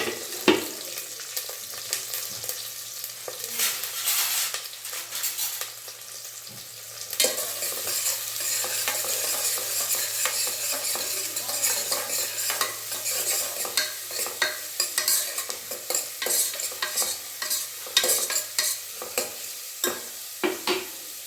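Onions and green chilies sizzle in oil in a pan while a spoon stirs them, a continuous crackling fry with repeated scraping strokes, close and loud, no talking.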